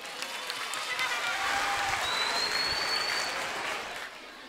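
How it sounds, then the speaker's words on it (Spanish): A school recital audience gives the ninth-grade group warm applause: dense, steady clapping fills the whole stretch, with a faint thin whistle-like tone drifting through. "Un fuerte aplauso para el grupo noveno."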